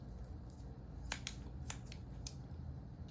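Zigzag-edged sewing scissors snip through material in a few separate crisp cuts, each a short sharp click, spaced unevenly over a low steady background hum with no talking.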